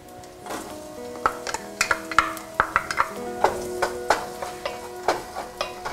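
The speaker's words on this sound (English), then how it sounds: "So I let the garlic simmer for a couple minutes." Garlic and leeks sauté in a soup pot, giving a low sizzle under a quick run of light utensil taps and clinks against the metal.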